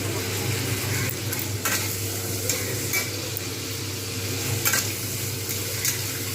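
Steady sizzling of bottle gourd greens with prawns stir-frying in a pan, with scattered scraping clinks of stirring throughout; no voices.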